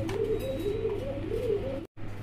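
Helmet pigeons coo in soft, repeated rolling phrases, three or four close murmuring calls over a low steady hum, ending with a brief silent gap.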